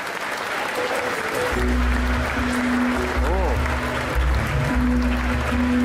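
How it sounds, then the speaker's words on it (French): A crowd applauds a costumed participant at an indoor costume parade, steady clapping throughout while an amplified voice and music carry on over it. "un tonnerre d'applaudissements pour Amira Gigi"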